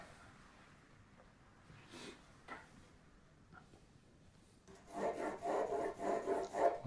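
A pencil sketches wood texture on paper, a few faint scratchy strokes at first, then a burst of louder, rapid rhythmic scribbling over the last two seconds.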